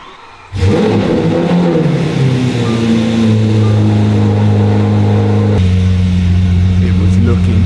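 A Lamborghini SVJ with a dashboard fault fires up after a quiet pause, its engine bursting into a loud, close roar, then settling into a throbbing idle with a brief blip of revs partway through.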